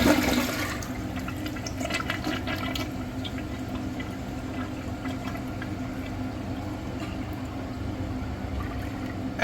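An American Standard Cadet Specifier toilet flushes and rinses the bowl, a loud, steady rush of water that starts at once and runs without a break, with no talking over it.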